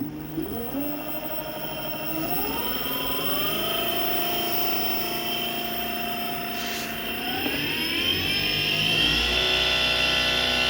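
The drive motor of an electric rickshaw, running after a controller repair, gives a steady whine that climbs in pitch in steps and holds, over a constant low hum, with no talking.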